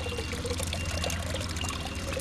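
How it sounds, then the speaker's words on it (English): Cold water left overnight pours steadily out of a container in a garden setting, a continuous close splashing stream with a constant rushing hiss throughout and no talking. "What's coming out of here is some really cold water from last night."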